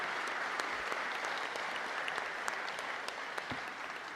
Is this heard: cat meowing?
no